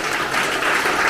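A crowd at a Korean election committee disbanding ceremony in Incheon claps for themselves, loud, dense continuous applause filling the room.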